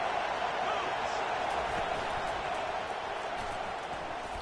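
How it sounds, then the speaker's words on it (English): A football stadium crowd roars on first and goal. It is a dense, steady wall of cheering and noise that holds at a loud level throughout with no pauses. "Fans are bringing the noise on 1st and goal."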